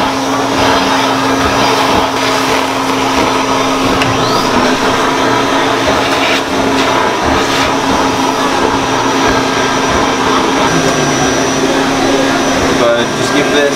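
A Build-A-Bear stuffing machine at a mall store runs continuously after its pedal is pressed, giving a loud, steady blower-like roar with a constant hum throughout and no pauses.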